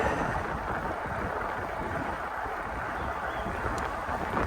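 Low rumbling buffets of wind hit the microphone continuously on an e-bike ride, a steady roar with no voices, close and muffled.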